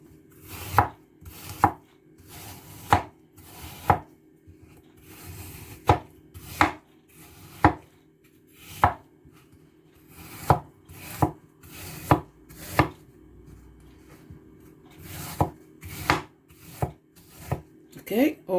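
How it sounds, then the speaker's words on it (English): Repeated sharp knife chops dicing peeled apples on a cutting board, irregular but steady, close and clear, with quiet moments between strokes. "So now you dice them."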